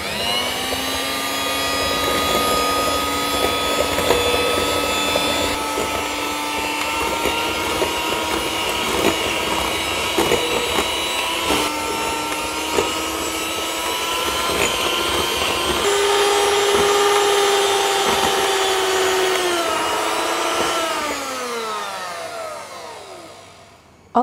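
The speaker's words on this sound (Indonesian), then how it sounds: "Langsung kita mixer." An electric hand mixer whirs steadily while beating eggs, sugar, SP and yeast for Bangka pukis batter, a loud close motor whine that holds its pitch for about twenty seconds, rises slightly, then winds down and stops.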